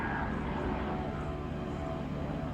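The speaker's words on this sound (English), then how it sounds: "There's a helicopter flying there." A helicopter flies overhead, a steady low rotor and engine rumble that sounds moderately distant and continuous, with no voices.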